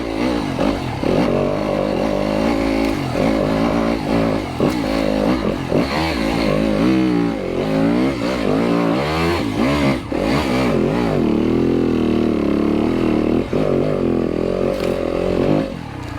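A Yamaha YZ250FX dirt bike works along single track trail, its engine droning steadily and loudly near the listener for the whole stretch, with repeated throttle rises and falls as the rider climbs through the gears.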